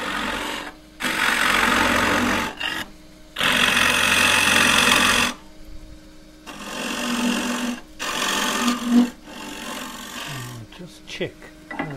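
A 3/4 inch square end scraper cuts the end grain of a cross-grain wooden box on a lathe, giving loud rasping bursts that run two to three seconds each, separated by short pauses.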